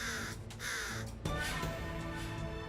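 Crows caw in the video game Wandering Sword, a couple of harsh calls over a steady, dense background of game music and ambience.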